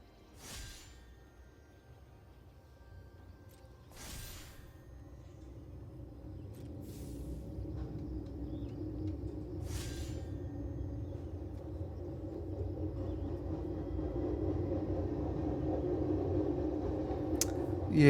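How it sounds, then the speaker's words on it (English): A very loud train passes, its low rumble swelling steadily from quiet to a sustained roar that fills the end, with a few sharp clicks scattered early on. "Here comes a very loud train."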